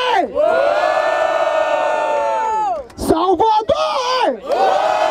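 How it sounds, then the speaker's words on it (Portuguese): A loud crowd at a rap battle final roars, whoops and cheers in long sustained waves, with a brief dip midway before the shouting swells again. "Barulho para as rimas de Big Mike!"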